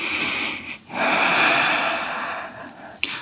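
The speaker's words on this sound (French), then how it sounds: "Une respiration." During Hatha yoga practice, a person draws a long, audible breath through the nose, then lets out a slow, airy exhale with a slight snort, close and clear with no talk.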